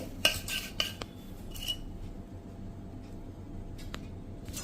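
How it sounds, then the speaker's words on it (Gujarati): A metal spoon clinks and scrapes against a pot while sugar syrup is stirred into a mohanthal gram-flour mixture, with a few sharp knocks early on and then quieter scraping. "હવે આપણે આ ચાસણીને મોહનથાળમાં મિક્સ કરી દઈએ"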